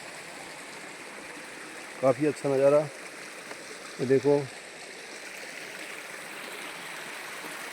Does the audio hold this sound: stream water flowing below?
yes